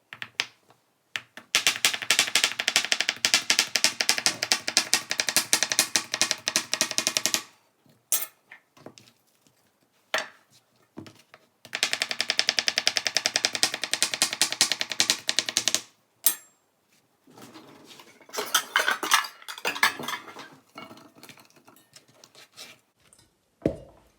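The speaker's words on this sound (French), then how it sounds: "Donc on va commencer par couper les courgettes." Zucchini sliced into rounds with a knife on a cutting board, a rapid run of crisp chopping taps in two long bursts with short pauses and a few scattered cuts afterward, close and alone.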